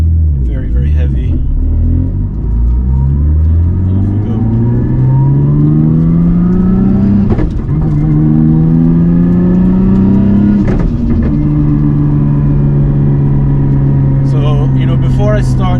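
A tuned Nissan R34 GT-R with a Hollinger six-speed sequential gearbox, its engine loud and close, rising through several rev sweeps with brief drops between them and a raspy roar throughout.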